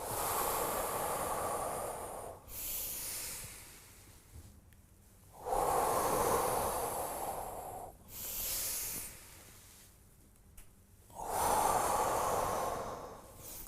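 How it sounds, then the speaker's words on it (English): Slow, deep breathing in a guided Taoist exercise, with long hissing inhales and exhales alternating in a steady rhythm, close and fairly quiet, with short pauses between breaths. "Exhale. Inhale. Exhale."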